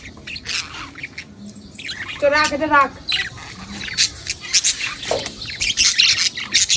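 Harsh squawks from yellow birds burst out in a loud cluster, joined by sharper chirps and scratchy calls, with people talking in the background.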